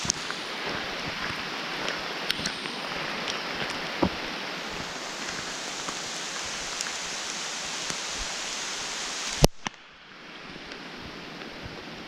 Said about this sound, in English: Ooh, is it ever raining?